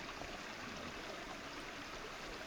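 A small creek gushes softly outside a backyard, a steady, faint broadband wash of flowing water with no breaks, heard from a distance and alone.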